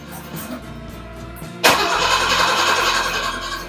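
The engine of an old Mercedes W114 that has not run for a long time cranks over, then catches at once and roars into a loud, steady idle close by.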